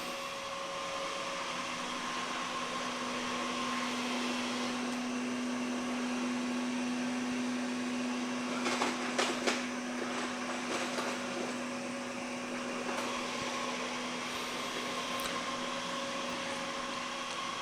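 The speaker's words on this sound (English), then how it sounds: "The vac itself is actually able to go over some small bumps." A Samsung Powerbot R7040 robot vacuum cleaner runs with a steady, close whirring drone and a constant motor whine, with a few brief clunks partway through as it rolls over small bumps.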